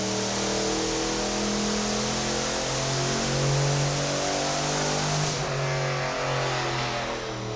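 A turbocharged Mazdarati accelerates hard on a pull, its engine tone climbing steadily under heavy wind and road roar, loud and sustained, with a drop in the highs near the end as the run eases.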